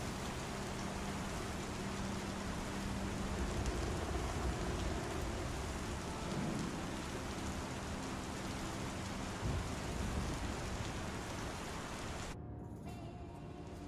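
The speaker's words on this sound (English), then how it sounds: "Also, very clear cut of where the rain starts." Steady, dense rain falls continuously in the Star Citizen video game, a loud wash of hiss with low rumble beneath that cuts off abruptly near the end, leaving near silence.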